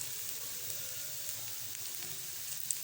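Carrots fry in a pan with a steady, even sizzle of fine crackling and hiss. The sound is constant, fairly close, and free of talk.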